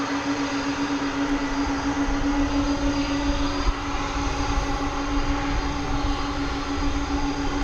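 An MD-11 jet at DFW Airport, a steady, sustained engine roar with a constant whining tone, fairly loud and unbroken, with no voices.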